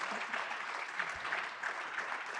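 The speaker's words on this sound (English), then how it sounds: "Can we give them a round of applause?" Conference crowd claps for a panel of speakers, a dense continuous round of applause from many hands that holds steady and fairly loud for a couple of seconds without any talking.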